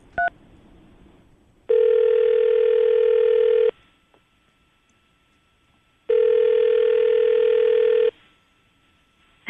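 A telephone call goes out: a short dial tone, then two long, steady ringback tones separated by silence, clear and alone.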